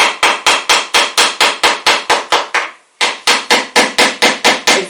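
A power tool cuts through a fiberglass mold over wood for a sculpture, producing loud, close, rapid repeated rasping strokes at a steady rhythm, with one brief pause before the cutting resumes.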